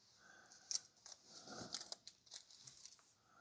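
Protective plastic film is peeled off a new Samsung Galaxy Tab S8 tablet, giving faint, close crinkling and tearing rustles in a quiet room.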